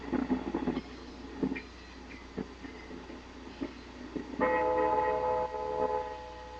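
An Alco RS-36 diesel locomotive, a lowered short-hood Buffalo Southern unit, rumbles with clanking knocks from the rails, then sounds its horn with sustained tones near the end, at moderate distance.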